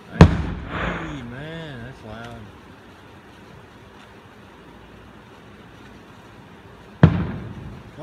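Distant fireworks show: a sharp burst opens, a whistling rising-and-falling tone follows, then quiet until another loud bang near the end, with a voice speaking.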